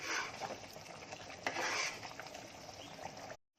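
A mundi paya masala gravy bubbling at a boil in a pot, giving a steady close hiss and bubbling with a brief louder stir partway through, then cutting off abruptly at the end.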